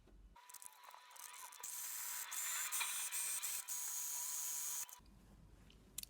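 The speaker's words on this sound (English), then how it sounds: "I'm going to go back over these edges just with a zigzag stitch to secure it" A sewing machine runs a zigzag stitch along fabric edges of a lunch bag, a close mechanical whir that starts up, holds steady for a few seconds with small pauses, then stops abruptly.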